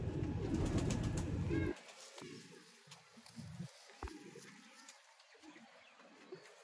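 Pigeons coo softly, with a Salara cross-breed male among them; low murmured coos and scattered wingy rustles come after a louder opening stretch, while someone speaks briefly nearby.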